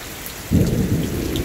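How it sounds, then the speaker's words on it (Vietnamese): Heavy rain pours during a hailstorm in a highland village in northwest Vietnam, and a deep roll of thunder breaks in about a third of the way through, rumbling loudly under a steady wash of downpour with no talking. "Ủa mưa to quá."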